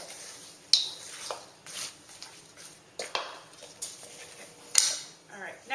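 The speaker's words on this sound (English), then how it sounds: "that's about a cup of nuts, approximately. Going to stir them around." Toasted chopped nuts, about a cup, are stirred in a bowl, giving scattered clicks, scrapes and rattles at close range with irregular louder knocks between quieter shuffling.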